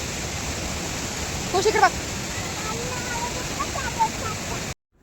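Palase waterfall in Mulshi, Pune, during the monsoon gives a steady, close rushing of falling water. A short spoken phrase and a few faint voices sit over the roar before it cuts off at the end.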